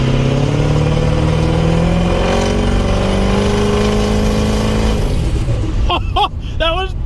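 A Ford 6.0 Powerstroke diesel fitted with an S369sxe non-VGT turbo revs hard at three-quarter throttle, a loud sustained roar whose pitch sweeps and falls, then cuts to short bursts near the end.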